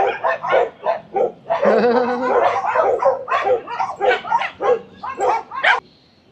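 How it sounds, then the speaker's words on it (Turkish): Several dogs in a Buenos Aires park bark and snarl at close range during a scuffle: a dense run of sharp, overlapping barks and growls, with yips mixed in and no voices, ending abruptly. "Köpekler arası kavga çıktı."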